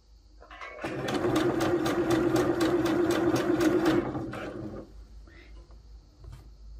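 A sewing machine runs in one continuous burst of about three seconds, stitching fabric for a T-shirt with a fast, even whir of the needle. It then stops, and faint handling noises follow.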